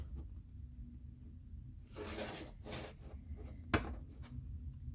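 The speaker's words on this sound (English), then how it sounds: "So we're just gonna shuffle these up." A deck of oracle cards is shuffled in a quiet room, giving a few faint, brief papery riffles and rustles over a low background hum.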